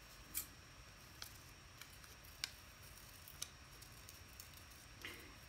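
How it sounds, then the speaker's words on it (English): Very large scissors cut paper for a folded artist book, producing a few faint, sparse snips and crisp clicks spread over several quiet seconds, alone and close. "this ridiculously large set of scissors here"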